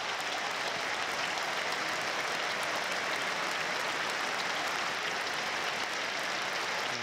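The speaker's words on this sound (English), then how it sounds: "Round of applause breaks out around the Stadium of Light." Broad, steady applause from a large stadium crowd at the Stadium of Light during a Sunderland AFC football match against Blackburn Rovers, a dense continuous wash of clapping heard from a distance, even in level throughout.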